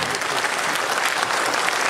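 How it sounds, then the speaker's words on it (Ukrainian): An audience at a ballet show claps in a dense, steady round of applause that fills the hall evenly from start to finish. "Шоу «Балет ва-банк» і ваші найщиріші оплески."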